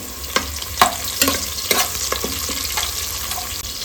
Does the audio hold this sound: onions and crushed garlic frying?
yes